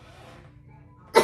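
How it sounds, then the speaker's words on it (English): A single short, sharp cough from a woman recovering from a lingering cough, heard close and loud at the very end after near silence. "still have this cough a little bit."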